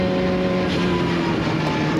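A World Series race car runs on track with a loud, steady high-revving engine drone and sustained tonal whine, close and continuous for the whole moment without any voices.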